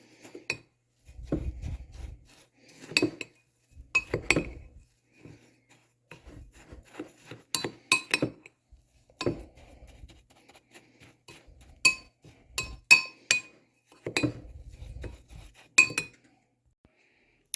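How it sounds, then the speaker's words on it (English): A spoon scrapes and clinks against a bowl while brown sugar, oats and flour are stirred together, in irregular bursts of rubbing and light clinks with short pauses, close and fairly quiet. "I've got all the dry ingredients in here now, the brown sugar, the oats, the flour. So we'll give this a good mixing"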